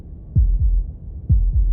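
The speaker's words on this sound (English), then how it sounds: "That was the sound of a heartbeat" Heartbeat in the video game Slay the Princess: two pairs of deep, booming lub-dub thumps, loud and close, with a steady throbbing rhythm and no talk.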